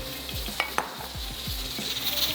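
Mutton for beh gosht being fried and stirred in a pot, a brief close sizzle with a few rhythmic scraping strokes and two sharp clinks of the spoon.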